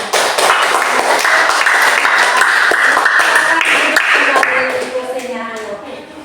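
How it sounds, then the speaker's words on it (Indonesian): A classroom full of people claps together in sustained applause that fades out toward the end, with some voices mixed in. "Tepuk tangan."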